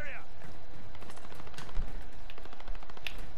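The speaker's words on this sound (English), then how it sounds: "Oh shit, sniper, they're shooting at me." Gunfire in Call of Duty: Modern Warfare, a run of fast bursts and sharp cracks close by, with one heavy low thump, under continuous excited talk from players.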